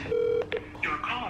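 Phone dialing tones during a prank call, a short steady tone followed by a quick keypad beep and then a warbling electronic sound, with faint voices in the background.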